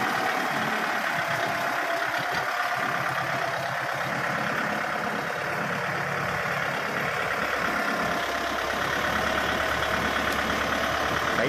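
A vehicle engine runs steadily with a low rumbling drone as the vehicle, which has a loose ball joint, is moved into a warehouse, continuous and fairly close, with no talking.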